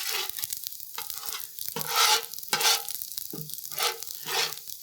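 Eggs frying on a Blackstone griddle, a steady close sizzle with repeated scraping strokes of a spatula stirring them on the flat-top, no talking.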